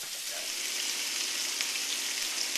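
Beef steak browns in a hot frying pan, giving a steady, dense sizzle that stays loud and close throughout with no voices over it.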